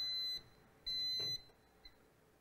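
The control panel of a 250 kVA generator sounds a high electronic alarm in two pulsed beeps, the second longer, followed by a faint short chirp, with low background hum and no talking.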